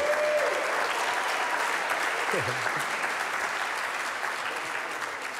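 Sustained round of applause from a live morning-show audience, a dense, even wash of clapping filling the whole stretch, with a brief laugh and some voices mixed in.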